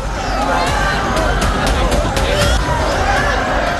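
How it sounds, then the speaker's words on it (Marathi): A dense crowd of devotees jostles and pushes at the Saptashrungi temple, a loud, steady hubbub of many voices and shuffling close by with no break. "गडाच्या पहिल्या पायरीजवळ भाविकांमध्ये ढकलाढकली झाली।"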